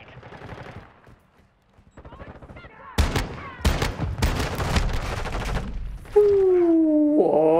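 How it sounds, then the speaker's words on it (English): Heavy shotgun blasts in the video game Call of Duty Modern Warfare 2, four loud booming shots spaced a beat apart, following brief talk and leading into a rising tonal game effect. "Four shots. All of them hit and he didn't die."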